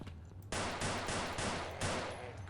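Rapid gunfire in the game Afraid of Monsters aimed at head crabs, a dense burst of quick repeated shots following a brief quieter moment, loud and sustained to the end.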